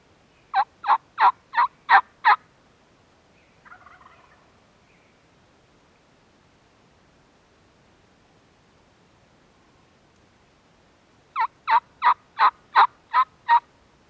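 Wild turkey gobbling in mountain public land, two clear bursts of rapid gobbles, one at the start and one near the end, fairly close and loud, with quiet woodland between and a faint rustle.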